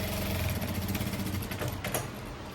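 A sewing machine runs steadily and close by as it stitches a blouse, giving a fast, even mechanical rattle with a low hum throughout.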